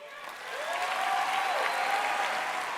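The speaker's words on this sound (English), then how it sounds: "Please let's give her a big applause again" Steady applause from a seminar audience following a motivational talk, rising quickly to a full, sustained clapping wash that fills the whole stretch, with a faint tonal whine running beneath.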